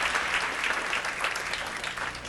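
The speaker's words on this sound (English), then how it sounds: "Give yourselves a round of applause." A packed room of town hall audience members applauds in a dense, steady burst of clapping that stays even and fairly loud throughout, with no voices on top.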